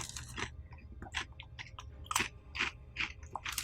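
Close, crisp crunching of buffalo Cheez-Its and pretzels being chewed, a string of sharp irregular bites and crackles over several seconds with no talking.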